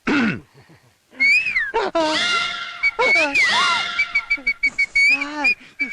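A man whistles in imitation of a pressure cooker's whistle, a voice copying the cooker's rising, sustained steam whistle in several bursts, loud and close, with brief vocal sounds between.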